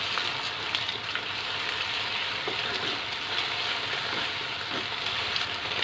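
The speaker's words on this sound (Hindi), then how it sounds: "इस एग को हम अच्छे से स्क्रैम्बल करेंगे।" Beaten eggs scramble in hot oil in a pan, a constant close sizzle and hiss with faint stirring movements underneath and no talking.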